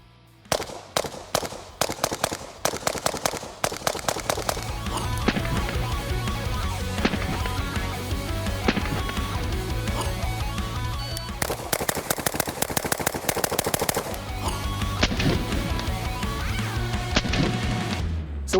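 SureFire SOCOM556-RC3 rifle fired in a shooting drill, loud close bursts of rapid automatic shots in long strings with brief pauses between them, no talking.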